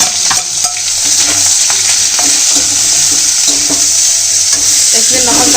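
Onions fry in a pan with a loud, steady sizzle, close up, and a spoon stirs and scrapes through them now and then.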